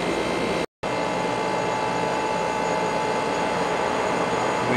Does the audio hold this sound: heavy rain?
no